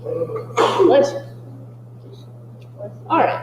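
A single sharp sneeze bursts out, followed by a quiet pause and a short voice at the end over a low steady hum.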